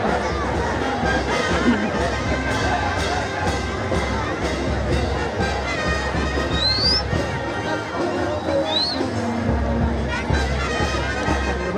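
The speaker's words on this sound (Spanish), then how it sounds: "El aplauso correspondiente." A large crowd roars and cheers steadily throughout at an afternoon bullfighting festival in Querobamba, Sucre, Ayacucho, after a running jump by the Vergara brothers, a dense, continuous mass of voices with a few sharp whistles.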